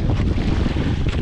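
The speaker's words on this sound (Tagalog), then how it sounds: "Lakas ng hangin, oh. Yan ang unos." Loud, gusty wind from an approaching storm buffeting the microphone outdoors on a fishing trip, a constant low rumble with surges, no voices.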